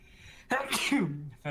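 A single sharp sneeze bursts out loudly and close, with an indrawn breath before it and a short trailing voiced sound after.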